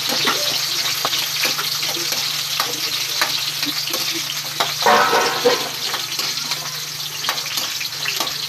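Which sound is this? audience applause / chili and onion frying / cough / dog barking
chili and onion frying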